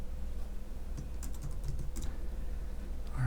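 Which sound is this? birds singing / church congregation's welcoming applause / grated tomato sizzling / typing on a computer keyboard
typing on a computer keyboard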